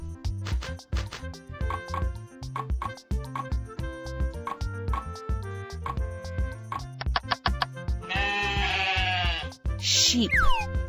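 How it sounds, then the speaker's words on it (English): Sheep bleating near the end, a couple of loud wavering bleats over steady rhythmic background music. "Sheep."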